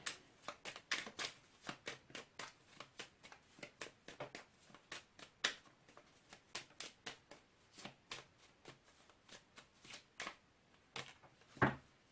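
Close, quiet shuffling of Whispering Woods tarot cards, a long run of quick riffling snaps and soft flicks in an uneven rhythm, with no talking.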